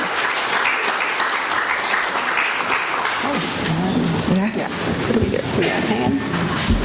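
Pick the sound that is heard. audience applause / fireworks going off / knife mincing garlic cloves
audience applause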